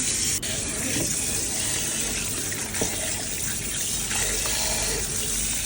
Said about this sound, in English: Now I am going to put the water in the bowl